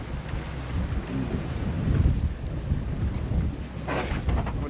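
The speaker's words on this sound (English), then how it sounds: "We're almost blown onto the rocks, but narrowly escape with full throttle, crabbing into the wind." Strong wind buffeting a motor boat running at full throttle near rocks, a loud roaring rush with low engine rumble and microphone wind noise, no talk.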